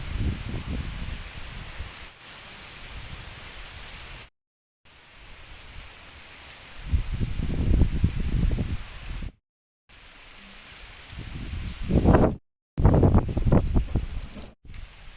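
Strong wind sweeps through trees in loud, surging gusts that rustle leaves and batter the microphone, broken by abrupt silent cuts.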